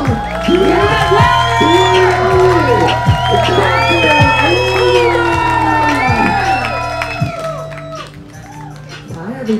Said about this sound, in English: Let's start clapping right now.